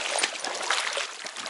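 A mountain river stream in Yakutia rushes steadily close by: a continuous bright hiss of flowing water with small splashing bursts, with no talk over it.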